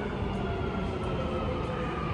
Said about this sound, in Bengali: সো আমার মনে হয় মেট্রো চলে এসেছে